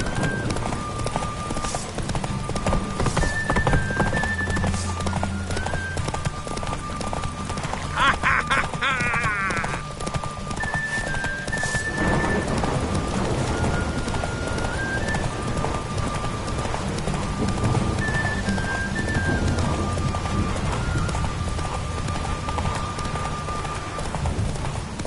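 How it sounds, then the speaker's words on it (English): Horses gallop in a race in The Witcher 3, with rapid, continuous hoofbeats close by, game music and chimes running throughout, and no talking. "Horses are antsy."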